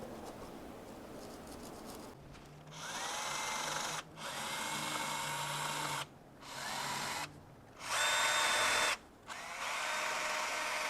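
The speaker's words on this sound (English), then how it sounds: "this wire brush has definitely seen better days" A worn wire brush on a power drill cleans bolt threads on a BMW E36 chassis, with several loud whirring bursts of a few seconds each separated by brief pauses, close and without speech.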